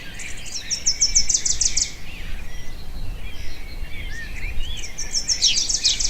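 Oriole singing outdoors, bright rapid chirping phrases in two bursts at moderate distance, over steady low background rumble and faint insect noise.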